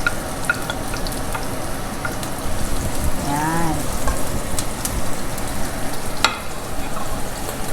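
Garlic and onion fry in an oiled pan for a simple Filipino pinakbet, a continuous crackling sizzle like light rain, with occasional stirring clatter and a faint voice in the background.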